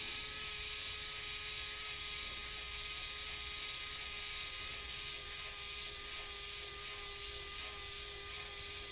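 A steady, high-pitched electric screwdriver motor whines continuously under load while drilling into plywood, with a constant buzzing tone and no pauses.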